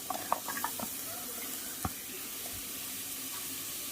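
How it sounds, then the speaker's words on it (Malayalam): Cauliflower florets tipped into a pan of softened sautéed onions give a soft, steady sizzle, with a few light clicks and taps near the start and one sharp knock partway through. "ആദ്യം നമുക്ക് കോളിഫ്ലവർ ഇട്ട് കൊടുക്കാം."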